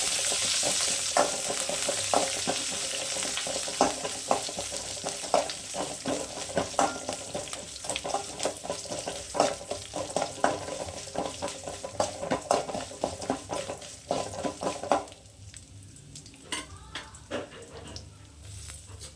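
Mustard seeds, curry leaves and byadagi chillies frying in hot oil give a steady crackling sizzle with frequent stirring scrapes and clinks of a utensil, loud and close, easing off near the end.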